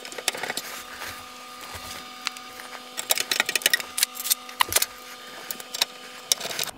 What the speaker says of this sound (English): So I'm just going to put the screws in loosely initially